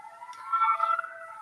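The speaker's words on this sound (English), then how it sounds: "Sorry for the ambulance siren." An ambulance siren wails briefly at moderate distance, a short rising-and-falling tone heard on its own with no talk over it.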